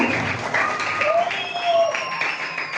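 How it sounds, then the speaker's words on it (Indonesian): An audience claps for prize-winning pupils at an elementary school farewell ceremony, a continuous moderate crowd of applause with some voices mixed in. "Oke, berikan tepuk tangan yang meriah pada para juara."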